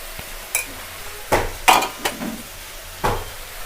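Ground spices such as chili powder fry in a pan for chili chicken, heard mostly as a spoon or spatula clanking and scraping against the pan in a handful of separate knocks over a quiet, low sizzle.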